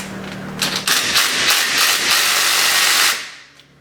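A Ryobi power tool drives a wheel bearing bolt on a 2009-2014 Ford F-150, giving a few sharp hammering bursts followed by about two seconds of loud, close, continuous rattling impacts that then stop.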